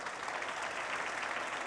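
A theatre audience applauds a performer's mother in the hall, a steady, fairly faint wash of clapping heard alone.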